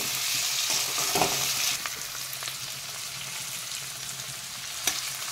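Chopped tomatoes and capsicum sizzle in a hot pan for mutton curry, with scraping stirring strokes and a few sharp knocks of the spatula over a steady frying hiss, close up and without talk.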